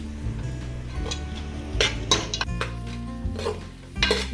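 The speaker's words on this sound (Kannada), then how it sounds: "ಈರುಳ್ಳಿ ಹಾಕಿ ಇನ್ನು 1 ನಿಮಿಷ ಮಿಕ್ಸ್ ಮಾಡಬೇಕು." Onions being stirred in a pan over a medium gas flame for white pulao; a metal spoon scrapes and clinks against the pot in irregular bursts, heard close, with a steady tonal hum underneath.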